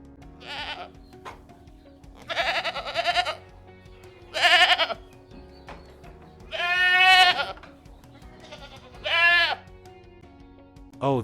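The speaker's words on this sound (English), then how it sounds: "It's a goat." A goat bleats in a series of loud, wavering calls, about five separate bleats spaced a second or two apart, close and clear over a faint steady background hum.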